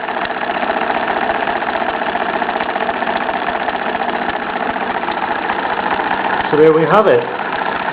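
A Bowman M122 model steam engine, geared through Meccano sprockets and pulleys, runs with a steady, close chugging hum throughout, and someone speaks briefly near the end.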